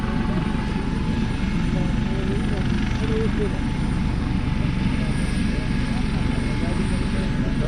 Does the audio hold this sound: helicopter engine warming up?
yes